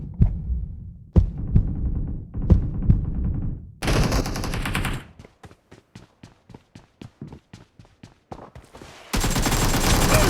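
Gunfire in the mobile game BGMI: rapid bursts of sharp shots crack out in a quick rhythmic series, some pauses between volleys, and a loud, dense stretch of fire at the end.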